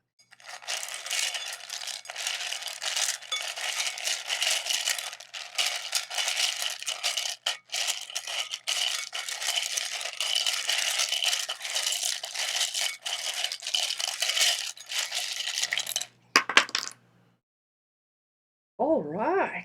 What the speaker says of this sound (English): I am going to give quite a bit of a shuffle